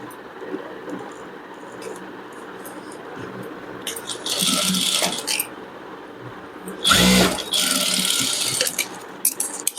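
A sewing machine stitches the lining of a princess-cut blouse in two short runs of whirring stitching, the second louder, with quiet fabric handling and small knocks between.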